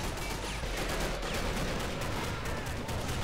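Sustained battlefield gunfire in the Men of War strategy game during a zombie invasion defense, a dense, steady wash of distant rifle and machine-gun shots with faint whistles, moderately quiet and unbroken.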